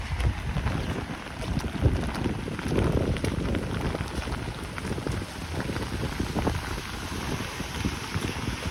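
Steady rain pattering on a wet street during a walk in Howard Beach, Queens, a continuous dense hiss with low rumbling wash and some wind buffeting on the microphone, no talking.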